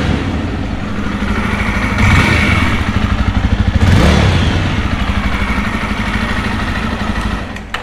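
A 2024 Classic Legend BS7 motorcycle engine revving up from idle, a heavy thumping clatter that swells loud near the middle and settles back to a steady rhythmic beat, heard close and alone.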